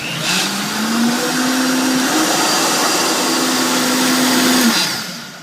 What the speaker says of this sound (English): we're just going to blend it up until it's all incorporated really nicely